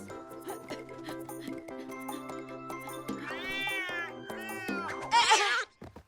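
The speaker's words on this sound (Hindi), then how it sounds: "ए बिल्ली, उस चिड़िया का पीछा छोड़ दे।" Cartoon cat meowing and yowling as it chases a bird, several drawn-out meows over a busy music bed, ending in a loud harsh screech.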